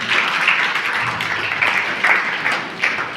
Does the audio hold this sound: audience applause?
yes